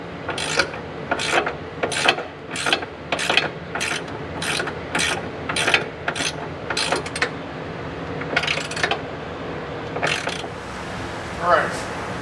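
Ratcheting wrench loosening the nuts that hold an LOD Signature Series stubby front bumper to the frame rail, heard as about a dozen quick, evenly spaced clicking bursts close by, then a pause and a few more.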